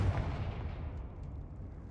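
A Confringo fire spell in Hogwarts Legacy bursts in a single deep boom that rumbles and fades away over about two seconds, with no voices over it.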